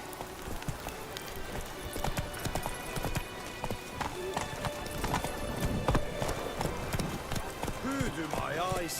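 Horse hooves clip-clop in a video game, a steady close rhythm of trotting beats running throughout with a short whinny near the end and a speaking voice over the top.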